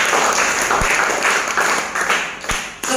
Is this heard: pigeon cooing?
no